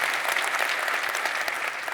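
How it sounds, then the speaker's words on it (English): A conference audience gives a quick, steady round of applause, many hands clapping together at moderate volume for the whole moment. "So I want to give a quick round of applause to the folks that are in the back end"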